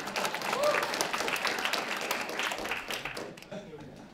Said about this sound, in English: everyone clap for BioMe